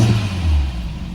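A Peugeot 309 GTI engine runs just after starting at a Scottish classic car auction, a steady low rumble with a slight rise and fall in revs, close and fairly loud throughout.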